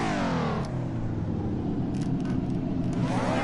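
Car engine in the racing game Assetto Corsa, a steady loud droning rumble with shifting revs as the car drives, rising in pitch near the end, with no talk over it.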